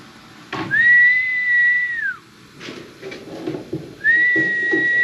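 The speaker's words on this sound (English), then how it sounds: "They will come to a whistle." A person whistles to call beef cows on a farm: two long, loud, steady whistled notes, each ending in a falling tail, with quiet outdoor noise and small knocks between them.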